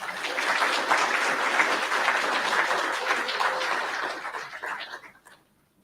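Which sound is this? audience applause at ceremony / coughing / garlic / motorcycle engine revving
audience applause at ceremony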